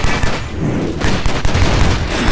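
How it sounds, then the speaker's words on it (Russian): Loud, dense bursts of gunfire and booming blasts from the video game Stranglehold, with heavy low rumble and rapid crackling shots throughout, no talking. "Да, взрывчик мы устроили еще вдобавок."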